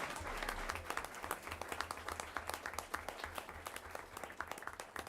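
Audience clapping for girls basketball players called up at a school board meeting, a moderate, steady patter of hands over low room hum, lasting throughout.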